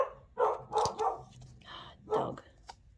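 A small dog barks a few times in quick short yips, moderately close, with brief pauses between bursts and a quieter yelp near the end, heard alone in an indoor room.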